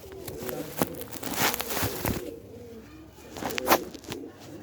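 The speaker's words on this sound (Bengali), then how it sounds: "ছোট কবুতর" Young pigeon, a red-eyed male with fresh plumage, held close while giving soft low coos that come in short bursts, mixed with handling rustles and flaps.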